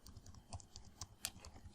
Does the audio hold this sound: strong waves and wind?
no